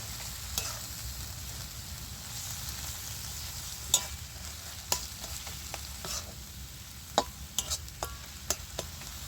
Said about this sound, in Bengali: এবার ভালো করে সব মশলাটা আমি ভালো করে কষিয়ে নেব।